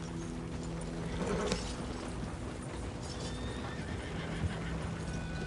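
Horse neighing with clip-clopping hooves in a cowboy video game, a whinny rising mid-clip over steady hoof beats and game ambience, no talk.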